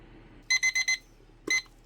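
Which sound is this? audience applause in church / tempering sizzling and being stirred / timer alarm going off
timer alarm going off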